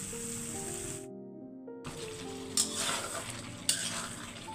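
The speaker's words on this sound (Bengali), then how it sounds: "অনেকক্ষণ কষাইলাম আলুটা দিয়ে মশলাতে, অনেকক্ষণ কষাইছি।" Potatoes stir-fried in spices for an aloo curry in a home kitchen, a steady close sizzle with scraping stirs, a short quiet gap, then louder clattering stirs and a couple of sharp spoon knocks.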